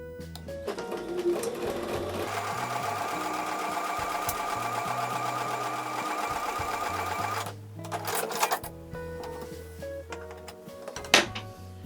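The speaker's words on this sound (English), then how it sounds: "I'm going to take these over to the sewing machine and sew with a 1/4 inch seam." A sewing machine runs a 1/4 inch seam on quilt block pieces, with steady rapid stitching for about seven seconds, a brief pause, then short stop-start bursts of stitching close by.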